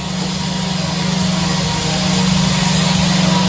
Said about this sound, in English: Neighbors are doing some construction in their yard.